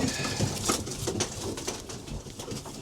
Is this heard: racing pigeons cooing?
yes